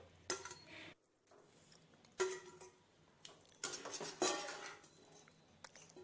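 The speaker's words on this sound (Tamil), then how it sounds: "மீன் துண்டுகளை சேர்த்து லேசாக கிளறி விடுங்க" Fried fish pieces stirred gently into masala for fish biryani, with a utensil scraping and clinking against the pot in a few separate short bursts, close and fairly quiet.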